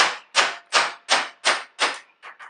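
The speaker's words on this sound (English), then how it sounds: "Some of you are going to say I should be using a brass hammer, but I'm not going to hit this hard." Steel hammer tapping a gear on a lift gate motor from a 2007 Buick Terraza, seven light, sharp metallic taps in a fairly even rhythm, close and distinct, the last two quieter.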